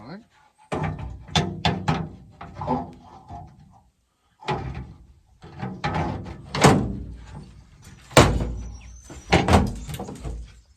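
A small, straight wooden door with a newly fitted top is swung open and shut in a few quick knocks and thunks, with close, moderately loud handling clatter in between and a voice speaking over parts of it.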